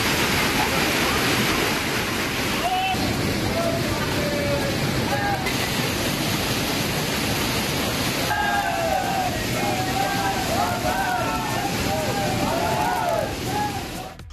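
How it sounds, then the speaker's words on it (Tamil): Waterfalls beside the Jatashankar Dham temple in Chhatarpur district, Madhya Pradesh, roar after heavy rain, a constant dense rushing wash of water with a voice speaking over it throughout. "புகழ்பெற்ற ஜடாசங்கர் தாம் கோவில் அருகே உள்ள அருவிகளில் நீர் ஆர்ப்பரித்தது"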